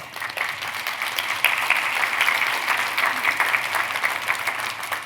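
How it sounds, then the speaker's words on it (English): Audience applause for friends and caregivers at a mindfulness-as-therapy talk, a steady, dense wash of many hands clapping that holds fairly loud for about five seconds without fading. "let's round of applause to the friends and caregivers"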